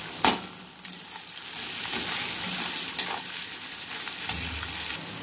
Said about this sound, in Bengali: এবার এইটাকে পেঁয়াজটাকে আমি লাল লাল করে ভেজে তুলে রাখবো।